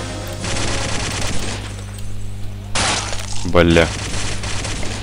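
Machine gun fire in the World War II shooter Day of Defeat, a sustained crackling burst and a second sharp volley amid a steady engine-like hum, with a man briefly swearing near the end.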